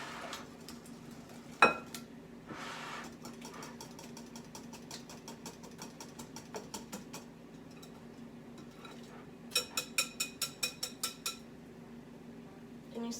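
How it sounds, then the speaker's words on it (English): A whisk beating a quiche mixture of eggs and cheese in a bowl, with steady rhythmic clinking taps that grow into a crisp, fast run of louder strikes near the end, alongside occasional knocks. "we're going to give this one more good whisk"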